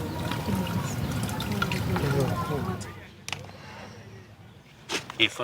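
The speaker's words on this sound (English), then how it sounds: "Once the mixture has cooled, it's poured onto the plants." A homemade pesticide of chili, celery, onion, garlic and soap slices steeped in hot water splashes and trickles onto garden plants for about three seconds before fading, with a voice talking over it.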